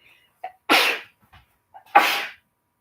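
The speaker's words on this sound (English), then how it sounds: "I gotta sneeze." Two sharp, loud sneezes, each preceded by a quick catching inhale, about a second apart.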